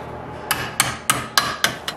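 Hammer blows bend sheet metal on the rear door of a Mercedes W109 during rust repair, six sharp, evenly spaced strikes about a third of a second apart, close and clear.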